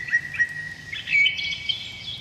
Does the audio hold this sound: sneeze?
no